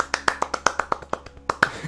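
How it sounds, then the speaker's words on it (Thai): Hand clapping by one person, a run of about a dozen crisp, close claps in a fairly even rhythm, heard alone without talk. "ปรบมือ"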